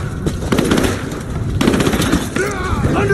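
Rapid machine-gun bursts and gunshots crackle loudly and continuously in a Rise of the Tomb Raider firefight, with voices shouting over the gunfire.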